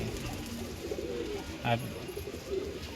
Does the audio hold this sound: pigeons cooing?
yes